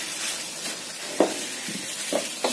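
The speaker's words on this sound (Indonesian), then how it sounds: "tahu, wortel, daun bawang. Kita cemplungin semua sekalian. Tumis sampai matang." Tofu, carrots and spring onions stir-fried together in a pan give a steady background sizzle, with a few short clanks of a utensil against the pan and no talking.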